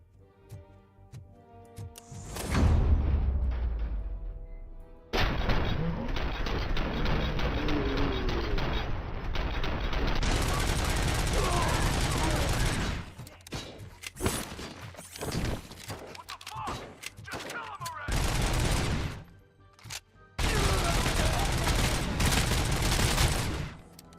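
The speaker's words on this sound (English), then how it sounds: "Full auto! I have a machine pistol." Sustained full-auto machine pistol fire in RoboCop: Rogue City, long loud rattling bursts separated by brief pauses and mechanical clicks, dense and close throughout.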